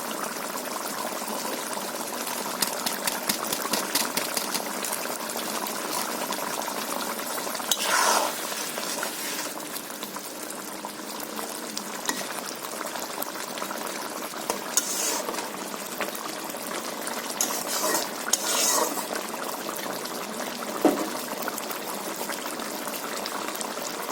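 Fish curry simmers and sizzles in a pan after garam masala is added, a soft, continuous crackle and bubbling with occasional louder pops and stirring scrapes, fairly quiet and close.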